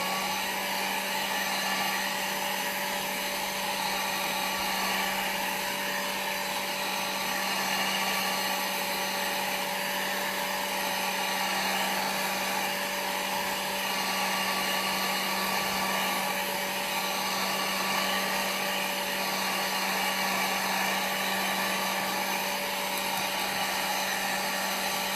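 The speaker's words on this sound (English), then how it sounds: "drying with a dryer" A hair dryer blowing continuously on ink swatches, a steady, unbroken whirring roar with a constant pitch that runs evenly throughout.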